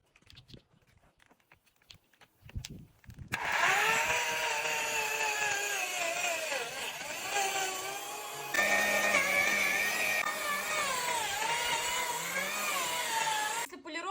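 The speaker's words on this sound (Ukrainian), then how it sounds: "Ми ну приступаємо до поліровки." A rotary polishing machine works paste into a car headlight, a loud steady whine with shifting harmonic tones that starts after a few seconds of quiet handling noises and runs on continuously.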